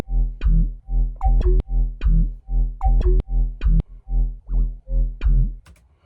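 Unprocessed synth sine-wave tones, clean and dry, in a bouncy repeating pattern of short pitched notes with pitch bends and gaps, loud and up front with no voices.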